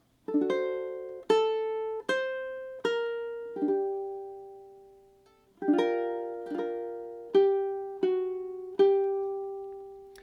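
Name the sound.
ukulele playing a chord phrase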